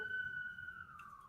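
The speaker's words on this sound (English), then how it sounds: "I like heard some sirens." A siren wails faintly in the distance as a single steady tone that slowly slides lower over about a second, alone in the background with no talk.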